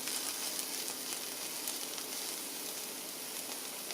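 Paella vegetables sizzle in a hot pan with no oil, giving a steady, hissing crackle that stays even and unbroken throughout, with no voices.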